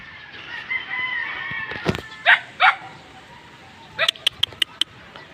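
Chickens cluck and squawk nearby, a rooster crows, and a dog barks several times in a quick sequence toward the end.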